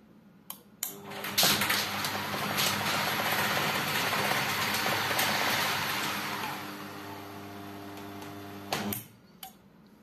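A BFT Botticelli SMART BT A 850-1250 overhead garage door motor runs for about seven seconds with a steady electric hum and chain rattle along the rail, bracketed by clicks as it starts and stops.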